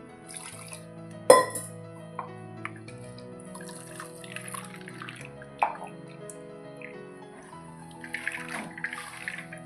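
Liquid sloshing and dripping as milky safflower seed water is poured and strained, with a couple of sharper splashes and soft handling noises, no talking.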